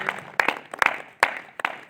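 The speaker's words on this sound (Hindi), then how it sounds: "तो एक बार तेजपाल जी के लिए भी तालियां हो जाए" Scattered hand claps in short bursts, a few separate rounds of clapping from a small group, fairly close with quiet gaps between.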